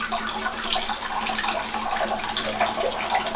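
A bathroom tap runs for tooth brushing, a close, steady splashing stream with fluttering spatter into the sink and a faint hum beneath.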